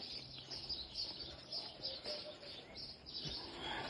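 Small birds chirp faintly in the yard garden of a house planted with trees, with thin, scattered calls over a quiet outdoor hush.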